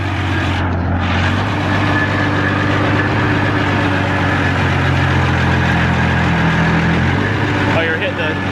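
A pro diesel pulling tractor engine runs steadily and loudly up close, a dense, rough mechanical drone with a continuous low rumble and internal clatter throughout.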